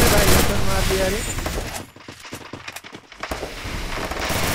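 Bursts of rapid gunfire ring out in the Garena Free Fire battle royale game, loud at first, then dropping away into sharp scattered shots, with game sounds and a voice mixed in.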